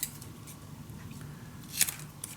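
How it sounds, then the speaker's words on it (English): Paper being cut with scissors while making a cozy winter mini album, a faint run of soft snips that swells into a brighter crisp cut near the end, close up in a quiet room. "So now I'm gonna cut from corner to mark, from mark to corner."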